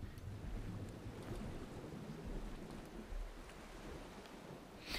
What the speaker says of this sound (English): This sounds very much like the Duke Nukem 3D underwater